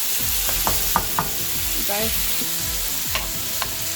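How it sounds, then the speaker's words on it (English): Diced onion fries in bacon fat with a loud, continuous sizzle, punctuated by a few spatula scrapes and crackles as it is spread around the pan, close up with no talk. "distributed so it all gets fried with the bacon fat"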